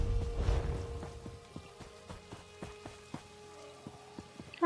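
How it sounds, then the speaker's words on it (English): Rain falls in The Elder Scrolls Online as a soft, steady patter of scattered drops, quiet and close, with a faint background tone and no talking. "I don't like it when it's raining in here."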